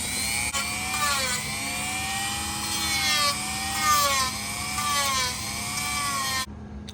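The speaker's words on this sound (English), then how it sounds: "we'll be taking this Dremel tool with a little sanding barrel on it, and we're gonna just be working this thing down" A Dremel rotary tool with a small sanding barrel grinds down a Kydex sheath, a steady high whining buzz with gently wavering pitch as the pressure shifts, running continuously and close up before cutting off abruptly at the end.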